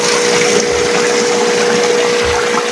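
Water gushes from a leak in a fish pond at a typhoon-hit fish farm, a loud, steady, close-up rushing roar that holds without pause.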